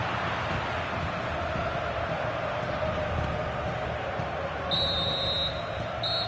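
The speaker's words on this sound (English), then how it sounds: "the referee blows the whistle, and that is going to be all for the first 45 here at the Amex" A referee's whistle ends the first half in a PES football simulation of Spain vs Saudi Arabia at the Amex: a short shrill blast, a pause, and another brief toot rise near the end above a steady crowd murmur.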